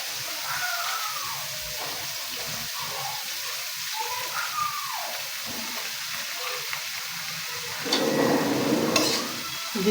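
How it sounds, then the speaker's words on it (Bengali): Shredded cabbage added to a hot pan with red chilies and stirred, giving a steady sizzling fry with scraping stir sounds and a louder burst of hissing near the end, no talk. "পাতাকপিগুলো আমি এখন দিয়ে দিচ্ছি।"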